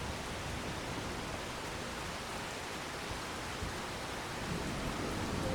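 Steady rain falling in a farming video game, a soft, even hiss of dense drops with no distinct patter or thunder, continuous and faint throughout.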